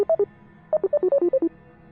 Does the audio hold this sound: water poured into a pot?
no